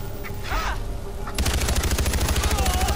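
Gunfire in the video game Far Cry on PS4: quieter game sounds give way to a sustained, loud burst of rapid automatic fire that keeps going to the end.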